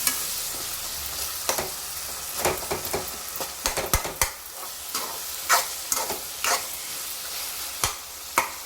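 Eggplants are stirred into a simmering tomato curry in a pan, with a steady frying sizzle broken by sharp, irregular scraping clicks of the spoon against the pan, close and clear, with no talking.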